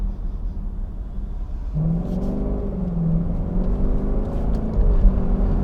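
A 2021 Lexus LC 500 Convertible V8 pulls away on a night drive, its engine note swelling and rising after a quiet start, with a steady growl building over road noise.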